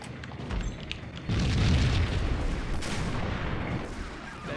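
Dense, loud gunfire and booming blasts from the video game Max Payne, a sustained barrage of overlapping shots and explosions with no clear gaps between them.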